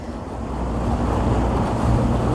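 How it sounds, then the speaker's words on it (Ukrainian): Ocean waves rush and wash steadily, a continuous broad surf roar mixed with wind buffeting the microphone, no voices. "вода шелестить, шумить."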